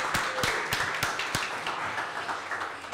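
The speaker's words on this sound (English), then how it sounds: "how about we give him a round of applause?" A press conference audience gives a round of applause, with a few sharp, distinct handclaps standing out at a regular beat over a softer spread of clapping from the room.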